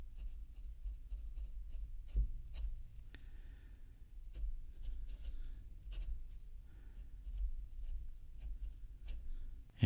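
A Hongdian Black Forest carbon fiber fountain pen, inked with Waterman Intense Black, scratches softly across paper in a series of faint, close strokes and taps, with no talking.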